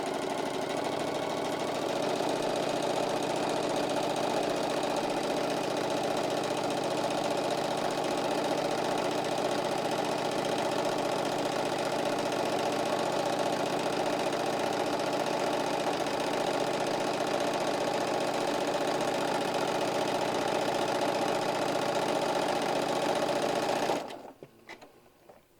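A sewing machine runs steadily for about 24 seconds, stitching a zigzag along a fabric edge with a continuous mechanical hum and rapid needle rhythm, then stops abruptly.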